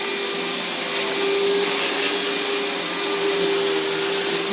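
A Riccar vacuum cleaner runs with a steady, loud motor whine and a constant hum, with something loose rattling inside it.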